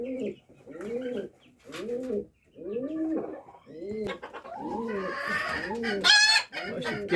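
Pigeon squabs in a coop give steady rhythmic cooing and soft grunting calls at close range, with a brighter twittering call near the end and other fowl faintly around.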